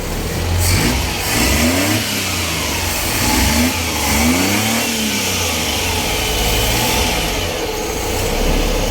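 A Suzuki F6A engine in a 4x4, long unused, runs close by, its pitch rising and falling as it is revved repeatedly over a steady idle.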